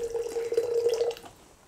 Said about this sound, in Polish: Ja tutaj pomieszam wodę gorącą z czajnika z wodą zimną